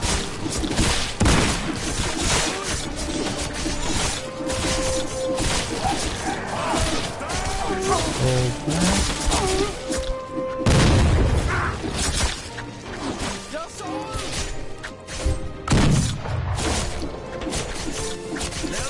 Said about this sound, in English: just shoot those bricks